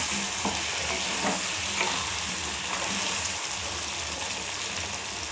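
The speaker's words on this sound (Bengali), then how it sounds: "তার মধ্যে দিয়ে দিয়েছি ছোট্ট এলাচ দুটো তেজপাতা" Cardamom and bay leaves fry in oil for a homestyle chicken curry, with a soft, continuous sizzle and a few faint stirring scrapes, fairly quiet and without speech.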